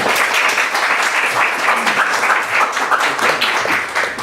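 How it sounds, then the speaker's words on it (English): A morning audience at a startup pitch event applauds steadily and fairly loudly, dense continuous clapping filling the room with no voices above it. "Round of applause, please."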